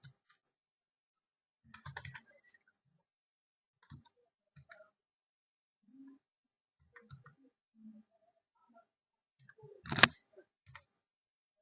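An application ID number is keyed in on a computer keyboard: sparse, quiet keystrokes in small clusters with long silent gaps, and a louder burst of taps near the end.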